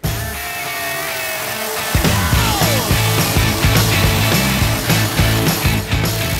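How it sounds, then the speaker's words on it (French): A chainsaw drones loudly and continuously, its pitch rising and dropping in rhythmic pulses as it bites into material after a brief idling start. "on va donner des petits coups de tronçonneuse pour enlever de la matière"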